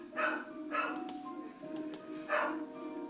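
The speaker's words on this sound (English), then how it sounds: "Dumb dog." A dog barks in a mystery adventure video game, three separate barks spaced across a short stretch, with soft ticking and faint game tones in between.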